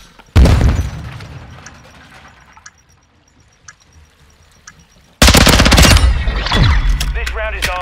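A planted bomb detonates in a shooter video game: a loud boom with a long decaying rumble, a few faint clicks in the quiet, then another sudden heavy blast of rattling gunfire and explosion.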